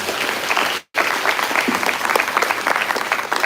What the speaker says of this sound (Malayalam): ഈ ഒരു കയ്യടി നിങ്ങൾക്കുള്ളതാണ്.